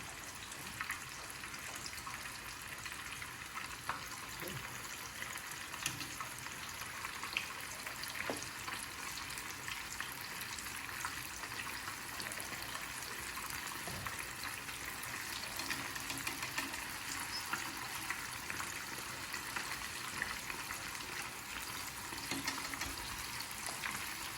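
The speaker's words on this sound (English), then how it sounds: "You can see everything's frying" Steady, busy sizzling of chicken deep frying in a generous amount of hot oil for Hong Kong-style fried chicken, continuous crackle throughout with no talking.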